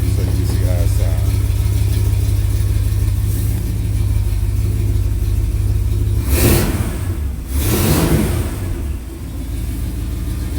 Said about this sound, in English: Let me hit the gas one time for you so you can see how it sounds.